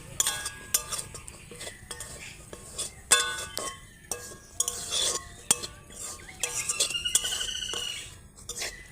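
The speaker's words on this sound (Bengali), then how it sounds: "এগুলো একটু হালকা করে নেড়ে নেব।" A utensil stirs a damp paste of ground mustard seed, soaked in water, inside a wok, giving soft scraping and clinking strokes at an irregular pace, fairly close and quiet, with occasional faint voice.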